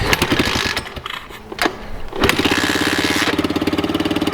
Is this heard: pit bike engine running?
yes